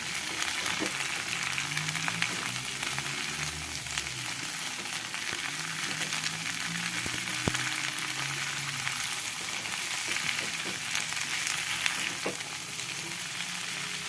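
Cut green beans and green chilies stir-frying in a pan for Sundanese oseng, a steady loud sizzle with occasional scrapes and clinks of stirring throughout.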